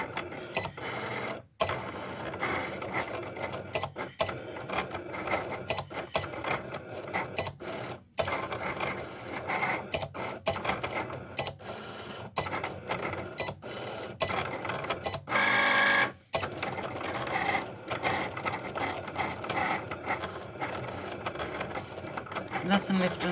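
A Cricut machine cuts rose gold vinyl with a continuous close mechanical whirring and clicking as the carriage shuttles back and forth, broken by brief pauses, while a person talks over it throughout.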